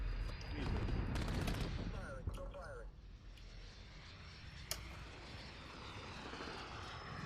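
A chopper gunner helicopter in a multiplayer shooter video game drones with a low rotor and engine roar while bursts of rapid gunfire crackle over it, with players talking throughout.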